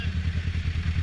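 Motorbike engine idling and being revved, a steady rumbling pulse close up with no talk over it.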